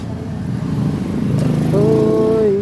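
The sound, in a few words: motor scooter engine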